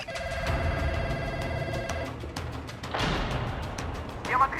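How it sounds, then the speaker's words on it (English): A telephone in a Call of Duty Warzone bunker gives a sustained ring that breaks off after two seconds, followed by bursts of gunfire-like crashes and clatter in the game. "When you interact with these phones, they will either beep at you, which means this is not an active phone, or it will ring"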